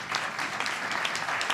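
An audience at a National HIV/AIDS Strategy event applauds Dr. Ron Baldessari, a brief steady burst of many hands clapping in a large room.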